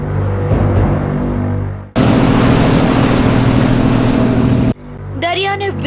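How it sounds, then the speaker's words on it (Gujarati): A boat crosses the muddy sea from Ghogha to Piram Bet, its engine a steady droning hum blended with rushing water in a loud burst lasting a few seconds, between quieter passages. "દરિયાને વિંધતી આ બોટ જઈ રહી છે ઘોઘાથી પીરમબેટ"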